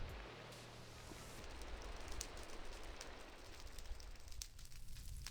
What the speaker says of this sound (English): I keep having to turn the rain off.